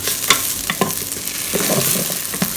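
Ginger, spring onion and garlic brown in a hot pan, a close steady sizzle punctuated by a few crisp scraping stirs of the spatula.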